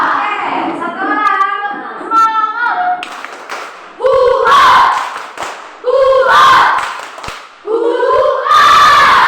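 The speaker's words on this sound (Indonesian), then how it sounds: "Tepuk tangan untuk kita semua" Fifth-grade classroom students in Indonesia standing to perform rhythmic spirit clapping, loud bursts of patterned group claps alternating with chanted voices, close and energetic.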